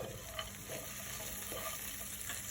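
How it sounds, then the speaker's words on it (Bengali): Pistachios frying in a spoonful of ghee for dry fruit laddu, a soft, steady sizzle with faint stirring scrapes, close and quiet, with no voices. "তারপর আমি দিচ্ছি পেস্তা বাদাম, এটা ভেজে নিচ্ছি।"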